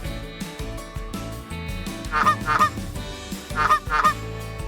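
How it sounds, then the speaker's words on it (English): Farm geese give a quick series of sharp, nasal honks in two short bursts, close and clear above steady background music. "Here comes goose."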